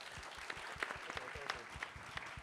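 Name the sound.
audience applause for Dr. Wu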